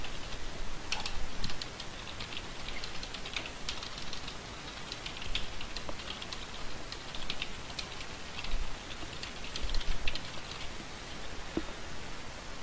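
Someone types a commit message on a computer keyboard for a Git check-in, producing quiet, irregular clicking keystrokes that run steadily throughout, with no talking.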